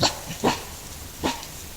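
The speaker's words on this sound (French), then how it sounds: "Elle recule et émet des aboiements d'alerte caractéristiques" An animal lets out alarm barks to its pack: three short, sharp barks spaced apart, fairly close, with no other voices.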